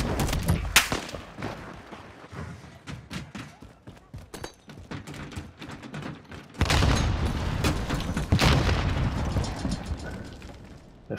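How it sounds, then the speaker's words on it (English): Grenades go off in a video-game firefight, heavy booming blasts amid scattered gunshots, with a loud rolling explosion surge in the second half. "Throwing grenades like crazy."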